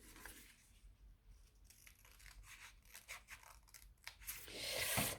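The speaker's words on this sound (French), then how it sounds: "Maintenant, on va venir découper au niveau du centre ici jusqu'à cette ligne-là." Scissors cutting through origami paper along a marked line for a shark model, a series of faint close crisp snips and paper rustles, alone and quiet.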